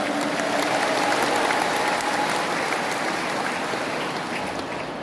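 Steady, dense applause from a crowd at an Indonesian national gathering, heard as a continuous hiss-like wash of clapping that holds loud and tapers slightly toward the end.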